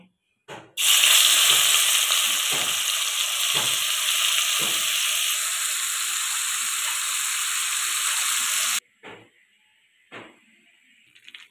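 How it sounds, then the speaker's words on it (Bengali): Raw prawns, rubbed with salt and turmeric, drop into hot oil and burst into a loud, steady sizzle that holds for about eight seconds, then cuts off abruptly, leaving a few scattered clinks and faint crackles. "তেল গরম হয়ে গেছে, এবার আমি চিংড়ি মাছগুলো ভেজে নেব"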